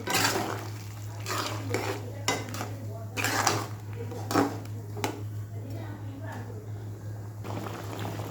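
A bowl coated with poppy seed paste being rinsed in a kitchen, with repeated clinks and knocks of dishes and cutlery over a steady hum while someone talks.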